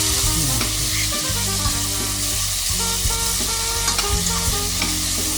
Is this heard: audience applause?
no